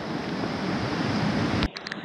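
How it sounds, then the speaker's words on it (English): A waterfall beside a trout stream in rain gives a loud, steady broadband rush that cuts off abruptly near the end, leaving a quieter, gustier background. "Oh yeah, I forgot about the waterfall."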